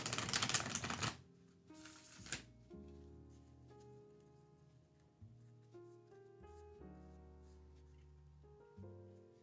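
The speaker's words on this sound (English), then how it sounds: "I'm going to continue to shuffle the cards to get ready." A deck of tarot cards is riffled in two quick, crisp bursts near the start, then soft tonal music continues underneath with no speech.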